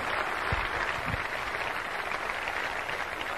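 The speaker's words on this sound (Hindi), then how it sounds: "तो जोरदार तालियां दोस्तों उस परमात्मा के लिए" A large audience at a religious gathering breaks into steady, dense applause, a continuous wash of many hands clapping that holds at an even level throughout.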